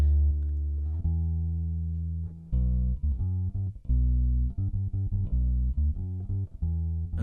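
Bass guitar plays through an MXR pedal, a muddy low line of separate plucked notes with slight string noise, close and alone, with a long ringing first note before a choppier run.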